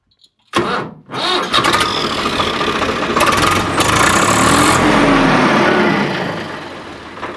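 A tractor engine cranks and catches, then settles into a loud, throbbing diesel idle close to the exhaust, rumbling steadily before easing off.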